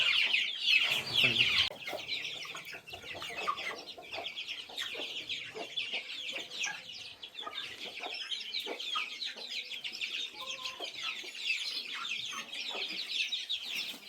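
Chickens, including a young rooster chick, cluck and chirp on a poultry farm, a busy overlapping chorus of near and mid-distance calls that stays steady throughout, with no talk.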